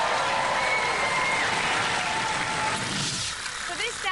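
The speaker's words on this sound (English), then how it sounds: "round of applause for Spawn Of Scutter." An arena audience applauds a fighting robot called Spawn Of Scutter: dense, loud clapping and crowd noise that fills the clip and thins slightly near the end.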